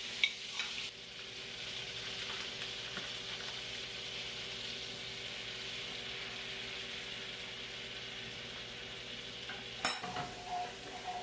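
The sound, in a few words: garlic sizzling in lots of butter in a pan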